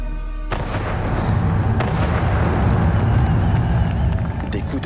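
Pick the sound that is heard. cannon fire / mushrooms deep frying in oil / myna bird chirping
cannon fire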